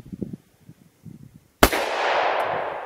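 A Glock 19C ported pistol fires a 60 grain Liberty Defense round with one sharp, loud report, followed by a lingering ringing decay. Faint handling sounds come before the shot.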